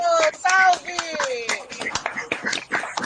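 Scattered hand claps ring out from a small audience at a public dissertation defense, uneven and close, mixed with cheering voices and people talking over them.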